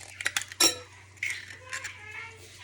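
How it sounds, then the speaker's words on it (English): Eggs are cracked into a bowl, with sharp clinks and taps of shell on the rim at the start, a louder crack, then softer scrapes and clinks of a spoon and fork against the bowl. "we're gonna crack some eggs in it"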